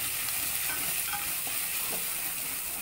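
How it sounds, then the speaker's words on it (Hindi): Spices sizzle steadily in a pan of hot oil for dum aloo: Kashmiri chili powder, turmeric and garam masala. Close, continuous frying hiss with light stirring, and no talking. "और थोड़ा भून लेंगे हम।"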